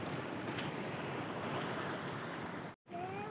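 Surf washes at Asaibori beach on Numfor island, near Biak, in a continuous soft broadband hiss. It drops out briefly near the end, and a faint whistling tone follows.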